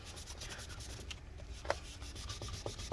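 Close, soft scrubbing and rubbing as sticky residue is worked off inside a 2012 15-inch Retina MacBook Pro A1398 with rubbing alcohol, with quiet repeated strokes and a few faint clicks.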